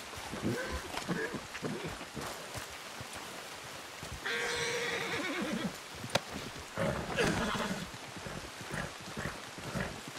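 In the video game Red Dead Redemption 2, a horse whinnies in a rising, shaky burst amid faint hoof clops and outdoor ambience, with talking around it.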